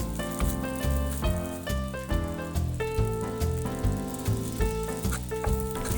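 Vegetarian pineapple fried rice with seasoning is stir-fried in a hot wok, giving a steady sizzle and rattling tosses that sit beneath loud, rhythmic background music.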